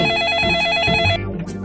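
A telephone rings loudly and close by with a bright, warbling electronic ringtone that plays alone and cuts off abruptly partway through.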